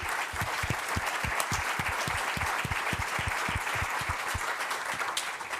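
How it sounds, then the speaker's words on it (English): An audience at a cybersecurity forum applauds after a panel discussion, a steady, even clapping from a moderate-sized crowd that holds throughout, with no voices over it. "please join me in applauding"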